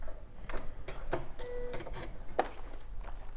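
A sewing machine runs in short bursts while stitching quilt pieces at a short stitch length, giving quick mechanical whirs and clicks that start and stop at close range in a quiet room.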